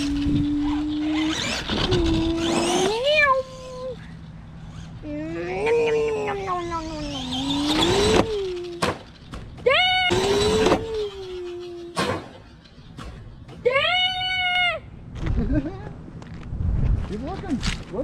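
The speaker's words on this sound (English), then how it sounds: "Look at the tire! It's just spinning away, spinning and spinning and spinning." An Arrma Gorgon RC car with a tire spinning freely. Its electric motor whines in repeated rising and falling bursts, revving up and dropping off, close by and loud, with people talking over it.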